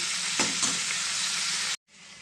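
Mutton pieces frying in a pan, a steady loud hiss and sizzle close up with a couple of stirring scrapes, then cutting off briefly before the sizzling resumes.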